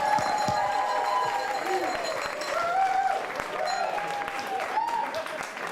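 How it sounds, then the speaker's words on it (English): Wedding guests applaud steadily for the bride's brother at a wedding reception, a dense, continuous clapping from a sizable crowd that holds at an even level, with some murmuring voices mixed in. "could you give a huge round of encouraging applause to the brother of the bride, Mr. Richard Griffiths."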